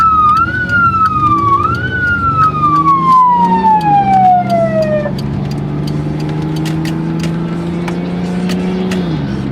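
A police escort siren wails in rising and falling sweeps over steady road and engine noise, loud and close, during a Ducati superbike group ride through Thailand toward Phayao.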